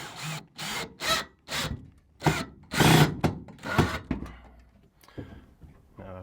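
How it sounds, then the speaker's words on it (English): Screw being driven into the side of a wooden barn owl nest box, a series of about ten short grinding, rasping bursts in steady rhythm, close and fairly loud, each turn separated by brief pauses. "we can just tighten it up by screwing in this side screw"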